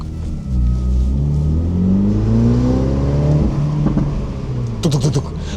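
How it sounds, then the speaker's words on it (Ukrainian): A Stage 1 tuned MINI John Cooper Works engine revs up loudly with a deep, throaty exhaust rumble, rising and falling, then a few sharp pops and crackles near the end. "І у нас стає агресивний конський вихлоп."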